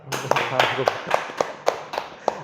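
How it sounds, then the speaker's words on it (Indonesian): A small audience claps in a steady, spaced rhythm of sharp slaps, cheering on a university badminton player, while a voice speaks over the first second. "kasih tepuk tangan"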